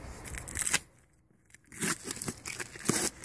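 Crisp tearing and snipping of scissors cutting open a package on a car hood, in several short bursts, with a brief quiet gap in the middle, close up and fairly loud.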